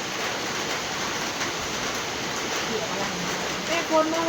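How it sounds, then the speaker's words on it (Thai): Steady hiss of rain falling, broad and continuous, with a brief louder patter near the end. "ฝนตกจ่ำ"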